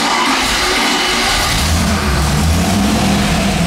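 A loud Rover V8 engine on a freshly tuned carburetor revving up from a rumbling idle, its pitch climbing and holding steady, close by and with no talking.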